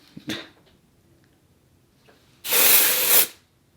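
A short, loud hiss from an aerosol can of spray powder makeup, lasting under a second, comes after a faint click and light handling noises, close up.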